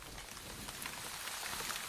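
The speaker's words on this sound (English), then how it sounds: "the rain began to hammer down even harder than before" Heavy rain hammering down in a steady, dense hiss of drops striking surfaces, a continuous and fairly soft wash with no voices.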